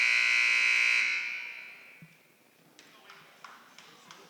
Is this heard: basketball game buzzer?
yes